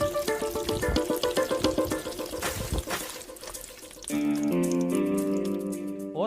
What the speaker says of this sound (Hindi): मकबूल, मुन्ना को हम देखते हैं तो तुम पानी मारो।